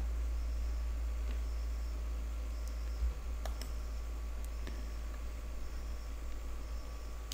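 Computer mouse clicks on a Windows PC while launching portable apps from a USB pendrive, a few sparse, faint clicks scattered over a steady background hiss.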